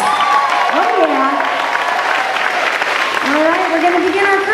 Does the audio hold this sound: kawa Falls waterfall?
no